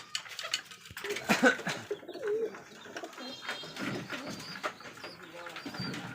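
Rajshahi Giribaz pigeons coo in soft, repeated low calls at a pigeon farm, close by and intermittent, while people talk nearby.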